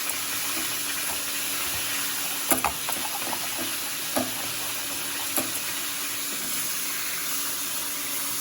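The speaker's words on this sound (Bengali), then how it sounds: "আর এখানে এখন মাছটা ভেজে নেব।" Fish frying in a pan in a home kitchen gives off a steady, dense sizzle that runs throughout, with a few sharper pops and spatters, close and fairly loud with no voices.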